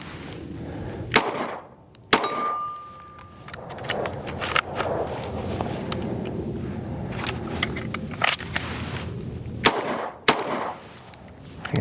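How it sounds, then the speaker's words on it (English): Sharp, loud gunshots from a Ruger RXM pistol fired at a 17-yard target, spaced irregularly across the span with several seconds between some of them, over a noisy outdoor background. "I'm going to shoot at the 17 yard and just get my bearings with this firearm"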